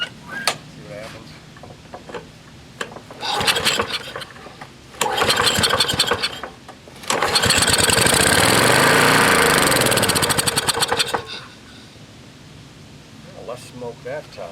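A Lawnboy 196cc two-stroke lawn mower is pulled over several times, sputtering in short bursts before catching and running loud for about four seconds, then cutting out again, with someone talking faintly around it.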